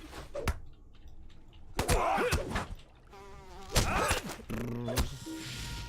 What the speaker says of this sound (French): ce stream où tu entends les mouches voler